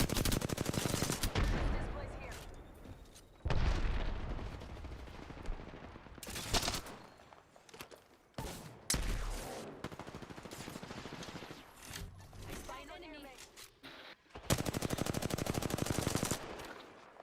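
Automatic weapon fire in the video game Apex Legends, several loud rapid bursts broken by short pauses, heavy and close, with an occasional voice between them.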